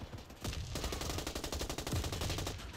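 Rapid automatic gunfire in the video game Warface, dense bursts of shots in quick succession, loud and sustained across the moment with no talk over it.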